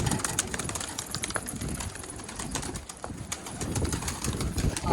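Pigeons let out of a coop flap and flutter with soft coos, rustling and scattered wingbeats in a busy outdoor setting, moderately close.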